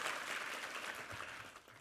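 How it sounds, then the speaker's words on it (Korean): A church congregation claps for the second choir after its hymn during a Sunday worship service. The applause is a soft, steady wash that carries on for the whole stretch, with no talking over it. "격려의 박수"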